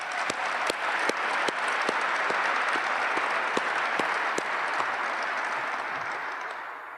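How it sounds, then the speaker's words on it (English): A crowd at an F-35 Record of Decision military ceremony applauds steadily for about seven seconds. The clapping is dense and sustained, with a few sharper individual claps, and it thins slightly near the end. "can we give them a round of applause?"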